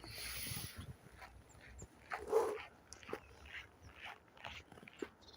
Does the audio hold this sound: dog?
yes